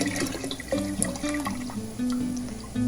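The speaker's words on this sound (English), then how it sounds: "So here I am just adding the vegetable broth." Vegetable broth pours into a pot with close, gurgling, splashing liquid sounds in a few short surges.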